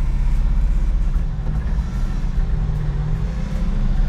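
A 1979 International Scout engine running at low idle and pulling in low gear, a loud steady rumble with a slight throb, no voices.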